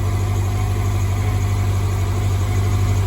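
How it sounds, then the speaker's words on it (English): A motorcycle engine idles steadily nearby, a low continuous rumble with no voices. "So Dad was trying to get his motorcycle running."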